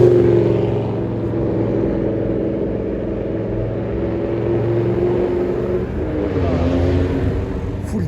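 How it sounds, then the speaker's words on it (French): A first-generation BMW M6 engine on a Paris street rumbles with a deep, steady exhaust note that swells and then rises into a rev, heard loud and close for several seconds with no talking. "le bruit est vraiment insolent. BMW M6 première génération."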